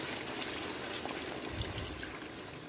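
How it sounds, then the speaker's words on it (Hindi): Water, 500 ml measured out, is poured into a cooking pot for a Hyderabadi degi potato and bone-in chicken curry. The liquid splashes and trickles steadily for a few seconds, close and fairly loud, with no talking over it. "500 ml पानी ले रही हूँ जो हम इसमें डालेंगे"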